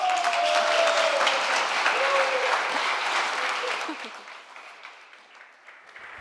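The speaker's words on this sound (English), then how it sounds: "A round of applause for him." An audience applauds Francesco Venturini, head of NLX and former RES4Africa Foundation president, at the RES4Africa 10-year anniversary event. The clapping is dense and sustained, then thins and fades away over the last couple of seconds, with voices faintly audible through it.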